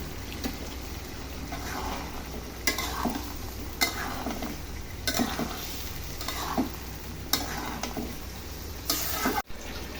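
Prawns, potato and pointed gourd stir-frying in a pan, a constant sizzle with a spatula scraping and stirring at regular intervals, close and moderately loud, with no talk.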